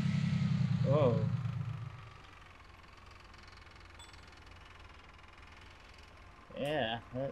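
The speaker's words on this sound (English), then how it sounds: "that's a very loud engine" A deep car engine in the video game Police Simulator rumbles loudly at first, then settles into a steady low drone, with a voice speaking briefly over it near the start and end.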